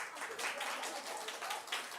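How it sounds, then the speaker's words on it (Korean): A church congregation at a Sunday worship service breaks into steady, scattered applause, faint and somewhat distant, lasting a couple of seconds. "우리 박수 한번 쳐줘."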